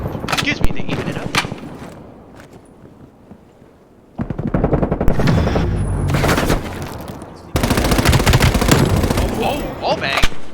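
Rapid automatic gunfire from a wall-bang in Call of Duty: Black Ops Cold War, loud close bursts in several volleys separated by brief lulls, with a voice talking over the shooting.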